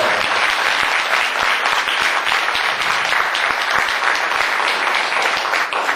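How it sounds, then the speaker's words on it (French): Steady, dense applause from an audience at a cooperative inauguration ceremony, loud and continuous throughout without a break. "Je pense que Léchi mérite une bonne main d'applaudissement pour être vraiment fort."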